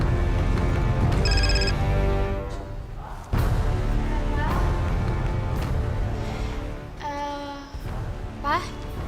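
A telephone ringtone chimes in repeated melodic bursts over a busy indoor scene, with talking and a voice mixed in and the tones coming and going across the scene.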